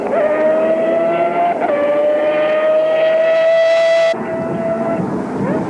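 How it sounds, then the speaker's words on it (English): The triple-rotor engine of a Mazda race car in a 1993 Wesbank Modifieds round at Goldfields wails in a high, sustained howl, loud and close, dropping off abruptly near the end as the car passes. "just listen to the banshee wail of that triple rotor engine in the Mazda"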